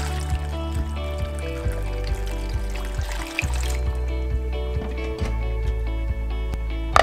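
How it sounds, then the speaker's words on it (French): Water pours into a pot filled with pumpkin pieces, a steady trickling stream heard up close over a continuous low hum, with a few soft clunks. "Une fois votre chaudron plein, on met de l'eau."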